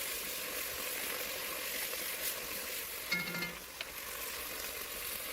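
Wine cooks down in a hot pan with a soft, steady sizzle, broken by a brief clatter and a gentle stir partway through.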